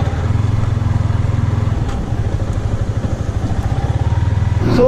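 Yamaha MT-15 BS6 motorcycle cruising on National Highway 2, its engine a steady, loud, close pulsing drone with a rhythmic throb throughout and no talking.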